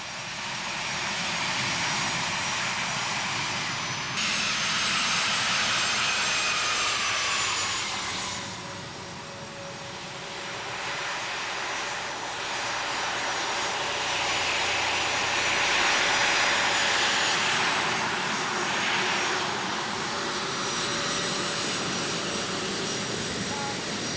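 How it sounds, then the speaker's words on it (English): Steady jet roar of an A-10 attack aircraft, a loud continuous drone with a faint high whine, swelling and easing slightly over its length, with no other sounds standing out. "the plane was highly regarded for its ability to fire armor-piercing shells and Maverick missiles at Saddam's tanks."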